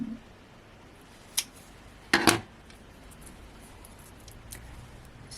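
Scissors snipping through card while cardmaking, a faint single click followed by a sharper double snip, then quiet room tone.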